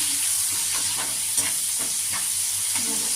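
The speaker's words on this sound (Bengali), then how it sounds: "টমেটোটা হালকা হালকা ভাজা হয়ে গেছে" Tomatoes frying in a pan with green chillies for a spicy fish curry, giving a steady soft sizzle with faint stirring scrapes throughout, close and continuous with no talk.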